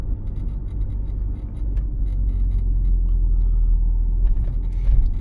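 A car driving along a street without road markings in Rivne during a practical driving exam, a steady low engine and road rumble from inside the cabin that swells slightly toward the end, with no talking.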